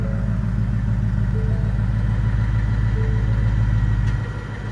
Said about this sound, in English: let's go ahead and put the exhaust right here in quiet mode